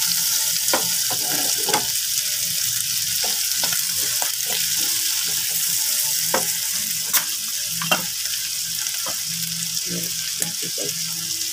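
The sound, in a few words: stirring buttered shrimp with black pepper while frying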